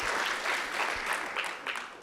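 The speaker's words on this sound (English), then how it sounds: "let's have one more round of applause for the mariachis" Audience applause for a mariachi band fills the whole stretch, a steady dense patter of many hands at moderate loudness with faint voices underneath.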